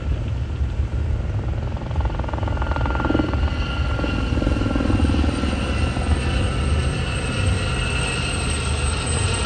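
A single-engine helicopter flies at an air show, a steady, loud engine roar with a throbbing rotor hum continuing without pause, close and unbroken throughout.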